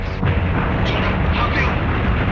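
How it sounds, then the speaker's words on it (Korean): Torpedo detonating against a US battleship: a loud, sustained roaring explosion with deep rumbling body and crackling debris, filling the whole moment without pause. "미 전함의 어뢰 명중."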